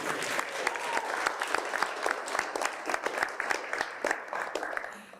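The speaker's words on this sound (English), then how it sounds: "let's do another round of applause for you all to come out and talk about zoning on a Wednesday" An audience claps at a community zoning kickoff event, a lively round of applause with crisp individual claps that fades out at the end.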